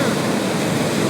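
Big ocean waves crash and surge along the Santa Catalina shoreline, a loud, continuous broadband roar of surf mixed with wind rumble on the microphone.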